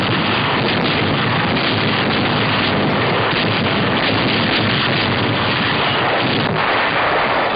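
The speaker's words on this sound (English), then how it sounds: "Anti-aircraft guns open up." Anti-aircraft guns fire at night in a 1944 wartime newsreel, a loud, dense barrage of booming blasts and rumble filling the whole stretch without a break, with muffled, limited old-film recording quality.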